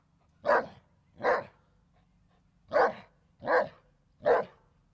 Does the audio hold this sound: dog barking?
yes